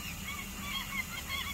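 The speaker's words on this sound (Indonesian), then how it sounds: "burung ini nangkap ikan guys." A fish-catching bird calls by the water with a few short, nasal honking notes repeated in quick succession over steady outdoor background noise.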